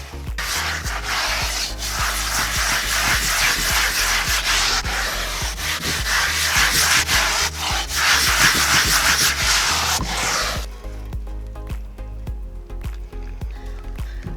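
Cast iron pan scrubbed with a little soap and baking soda, a steady loud rasping scour with rhythmic back-and-forth strokes for about ten seconds, then it stops and only a low background hum remains.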